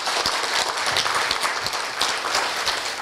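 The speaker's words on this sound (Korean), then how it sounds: "큰 박수 한번 부탁드립니다." An audience at a Korea University Seoul Campus Town plan announcement and agreement ceremony claps steadily, a dense, continuous applause that fills the room without break.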